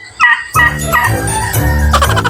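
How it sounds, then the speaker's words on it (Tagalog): A turkey gobbles in a rapid warbling burst, close and loud, followed by more throaty calls and a second gobble near the end. "Tapos itong bumungad sa akin yung huni ng pabo."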